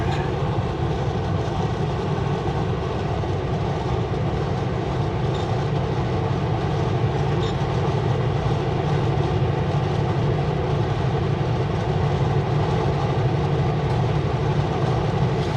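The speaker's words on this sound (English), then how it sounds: "that's the end of the train right there" A train rumbles steadily past with constant low roar and faint rhythmic clatter of wheels, loud and continuous throughout.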